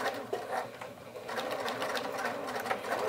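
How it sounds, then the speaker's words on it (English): A sewing machine stitches back and forth over the end of a zipper on a tote bag, a quiet, close, rapid whirring chatter in short uneven bursts with no talking. "I'm gonna back stitch again"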